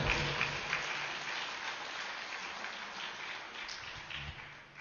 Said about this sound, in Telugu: ఇంతవరకు దానికి వర్క్ చేసిన ప్రతి ఒక్కరికి గట్టిగా చప్పట్లు కొడదాం